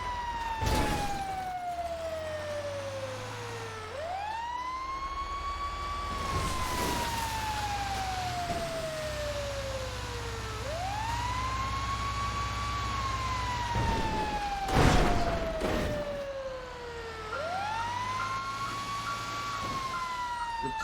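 A video game emergency siren near a boardwalk wails loudly in long rising and falling sweeps, repeating about every six seconds with a steady drone underneath and no voices.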